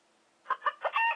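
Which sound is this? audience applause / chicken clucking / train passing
chicken clucking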